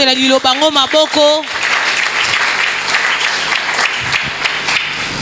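A church congregation breaks into loud, sustained applause and cheering after a voice speaks briefly at the start, the clapping filling the room steadily to the end.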